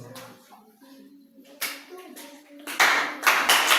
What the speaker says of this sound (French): Quand il monte, vous acclamez très fort.